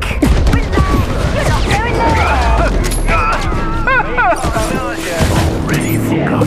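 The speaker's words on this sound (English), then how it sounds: "Grenades. Who doesn't love explosions?" Grenade explosions and gunfire crash and boom densely through PC video game combat, loud and continuous, with a voice talking over the noise.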